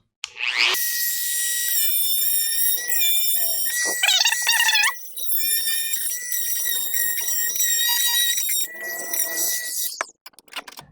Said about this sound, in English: we're going to take the Dremel tool with fiberglass reinforced cutoff wheel